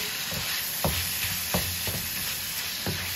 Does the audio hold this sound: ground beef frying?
yes